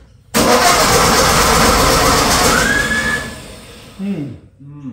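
Starter motor cranking a 1958 VW Beetle engine with a suspected flywheel engagement fault, a loud sustained whirring grind that fades out, followed by someone talking.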